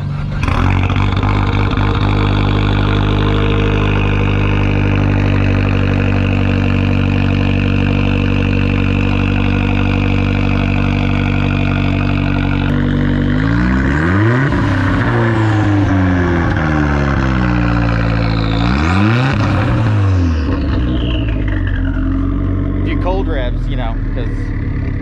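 A tuned car with a catalyst downpipe and 3-inch exhaust idles with a deep, loud, steady drone, then revs sharply twice, each rise and fall of the engine note standing out clearly, with voices talking over it.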